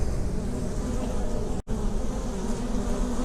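A dense, steady buzzing of many honey bees at a hive entrance, loud and close, with a brief dropout midway.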